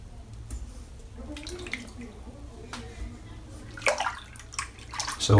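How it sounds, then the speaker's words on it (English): A Richardson shaving brush works Carnavis soap lather onto a face, producing soft wet squishing and bristle swishes with a few louder wet scrubs near the end, close and moderately quiet. "let's mop a bit of lather on it"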